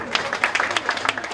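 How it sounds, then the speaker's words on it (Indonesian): A congregation gives a quick round of clapping for the tenor and choir at a thanksgiving Mass. The claps are close and uneven and last just over a second. "Sekali lagi tepuk tangan untuk mereka."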